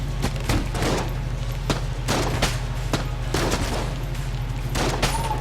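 Gunfire in the video game Enter the Gungeon, rapid overlapping shots and thumps in dense bursts with a steady low rumble beneath.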